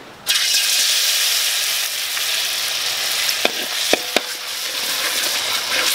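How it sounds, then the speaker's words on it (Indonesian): Terasi shrimp paste sizzles loudly in a hot pan, a steady frying hiss that starts abruptly and runs throughout, with a few sharp clicks of a utensil near the end. "Pertama kita goreng dulu terasinya."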